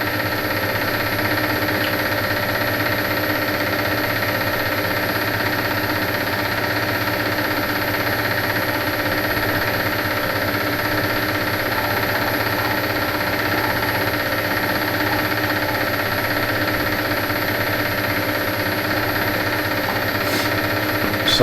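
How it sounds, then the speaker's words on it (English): A milling machine running at 1000 RPM clatters and rattles in a continuous loud drone while machining hit-and-miss engine parts in a workshop, with no pauses. "mill machine's clattering a bit. I'm running at 1000 RPM."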